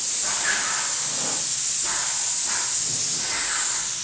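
Spray paint hisses in a steady, loud, continuous stream close by, with slight pulsing as the can sweeps back and forth during a final heavy coat.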